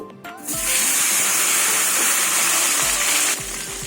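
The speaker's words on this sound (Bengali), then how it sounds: "এবার কলাগুলো ভেজে নেব" Raw green banana pieces drop into hot oil that was used for frying fish, setting off a loud, sudden hissing sizzle that holds steady for about three seconds before easing off.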